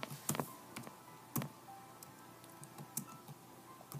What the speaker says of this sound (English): Let me just type it in first.